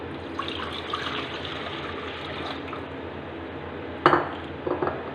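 Half a liter of water pours into a pan of tamarind for a sweet chutney: a steady, close rushing splash that ends with a sharp clatter of the pan and a few small knocks.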